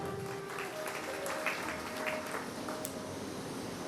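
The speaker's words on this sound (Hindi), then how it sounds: "एक बार जोरदार तालियों से स्वागत" Audience applause at a religious gathering, a steady wash of clapping from many hands, moderately faint and continuous with no break.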